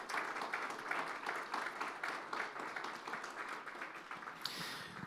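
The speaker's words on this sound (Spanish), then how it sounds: "De ese aplauso de alabanza al Señor" A church congregation claps in praise, a fairly soft and steady wash of many hands with a loose rhythmic pulse, ending with a brief brighter burst near the close.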